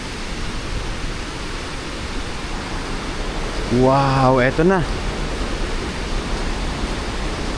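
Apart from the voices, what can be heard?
river water rushing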